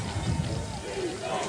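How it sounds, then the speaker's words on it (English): Home Cougar crowd chanting at a college football playoff game, a rhythmic mass of voices rising from the stands with a play-by-play announcer talking over it. "Cougar crowd chanting defense"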